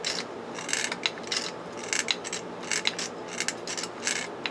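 A vintage sewing machine's mechanism rattles and scrapes in quick, irregular bursts as its pedal is pushed, a faint, close-up clicking and rubbing of loose metal parts with no talking.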